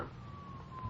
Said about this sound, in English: Listen, the siren.